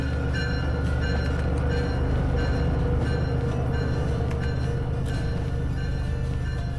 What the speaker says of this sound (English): Engage the dynamic brake.